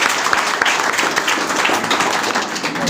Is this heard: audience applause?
yes